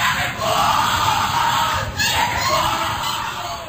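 A crowd of voices yelling and chanting together at a Skull and Bones initiation ceremony, loud and continuous, with a brief dip before the shouting picks up again.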